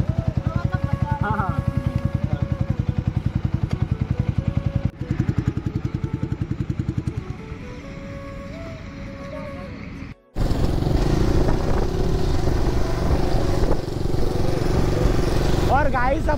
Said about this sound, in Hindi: अपन ने बाइक को थोड़ा स्लो डाउन कर लिया है